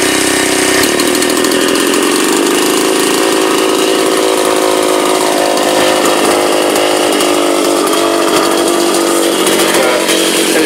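A Stihl 027 chainsaw with a standard carb runs loudly close by, a harsh buzzing engine that climbs in pitch after starting and then holds a steady, rough high whine throughout.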